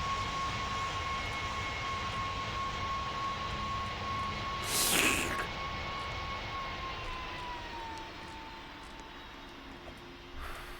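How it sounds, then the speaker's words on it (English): Aircraft engines in a flight simulator game drone steadily and loudly throughout, with a sustained tonal whine and a brief louder whoosh around the middle, without any talk. "God damn, these planes are loud."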